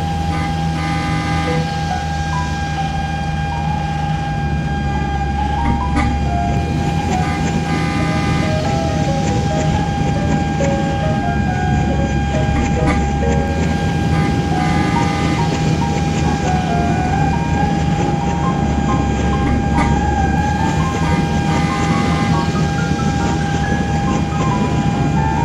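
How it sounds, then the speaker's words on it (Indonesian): A CC206 diesel locomotive rumbles past with a loud, steady engine drone, tonal hum and continuous wheel noise close by, unbroken for the whole stretch. "ini adalah lokomotif CC206 teman-teman"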